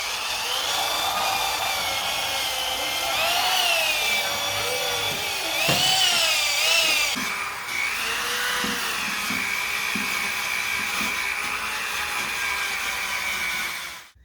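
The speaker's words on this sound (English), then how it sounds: "now I'm going to take this wire brush on the drill and buff out some of that rust" A wire brush spinning on a drill buffs rust off an old John Deere No. 71 one-row planter, a steady, high, gritty whir that runs for about fourteen seconds with brief surges in pitch as it bites the metal.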